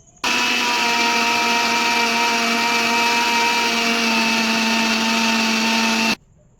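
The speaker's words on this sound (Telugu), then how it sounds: "ఇప్పుడైతే మనం మిక్సీ అయితే పట్టేసాము" A mixer grinder blending vegetables for juice switches on and whirs at a steady high-pitched roar for about six seconds, then cuts off abruptly.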